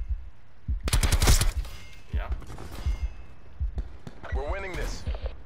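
Bursts of rapid assault rifle gunfire in Call of Duty: Black Ops 4 crackle in short volleys, mixed with quick game effects and a voice talking over them.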